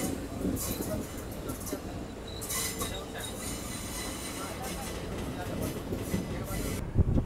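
An Indian sleeper class coach of the Hussain Sagar Express rolls along the track with a steady, loud rumble and rhythmic clatter of wheels, heard from inside the carriage, with occasional brighter rattles and squeals throughout.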